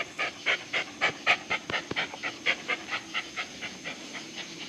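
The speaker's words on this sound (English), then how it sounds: "this is old Spike the Shop Dog" A shop dog pants close by in a steady, rapid rhythm of breathy puffs, about four per second, with a couple of brief knocks in the middle and no talking.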